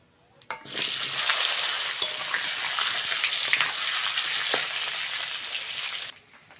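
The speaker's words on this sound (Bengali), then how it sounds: "আলুটা ভালো করে ভেজে নিয়েছি" Potatoes fry in hot oil with panch phoron for a fish curry, a steady loud sizzle that starts abruptly, holds for about six seconds with occasional crackles, then cuts off.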